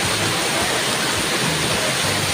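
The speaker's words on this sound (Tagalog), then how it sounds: "Yes, umuulan guys." Steady heavy rain pours down in a dense, continuous hiss outside a restaurant at Marquee Mall, with no voices or other distinct sounds breaking through.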